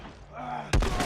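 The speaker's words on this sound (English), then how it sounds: "That was a headshot." A single loud, punchy gunshot lands near the end of a short stretch of game ambience, headshot-style gunfire in The Last of Us Remake, followed by a brief booming tail.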